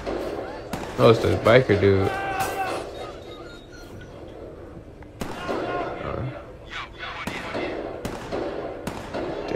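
Gunfire during a street gang fight in Watch Dogs 2, sharp scattered shots cracking out at irregular intervals, some rapid bursts, mixed with game ambience while someone talks over them.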